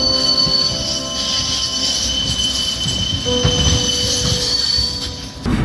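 An express tram in Borshchahivka, Kyiv, passes close by with loud, sustained metallic wheel squeal over rumbling rail noise.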